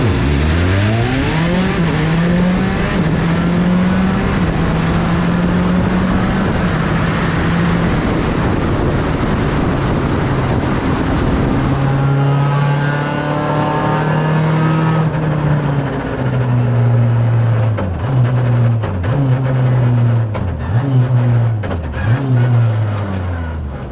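A WRC rally car engine revs hard close by, its pitch climbing and dropping through gear changes, then settling into rapid, punchy blips of throttle, loud and continuous throughout.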